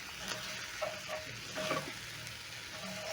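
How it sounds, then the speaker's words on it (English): A crushed seasoning cube and spices are stirred into frying meat in a pan, giving a soft continuous sizzle with light scraping strokes from the stirring. "Crush my seasoning cube into the"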